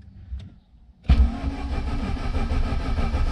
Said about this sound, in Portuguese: Tem que ficar pisando no freio e dando partida até chorar, fi.